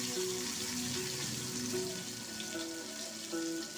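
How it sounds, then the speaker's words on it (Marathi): Cumin seeds dropped into two spoonfuls of hot oil for a tempering, with coriander leaves added, give a steady, moderately loud frying sizzle that runs throughout without talk. "मी आता फोडणीसाठी जिरं टाकते"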